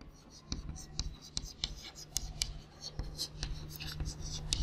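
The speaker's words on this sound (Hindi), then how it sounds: "अब हम लिखेंगे" Pen or chalk scratches out strokes during a class 8 maths lesson on quadrilaterals, the short scraping marks coming in irregular bursts, close and fairly quiet, with no voice over them.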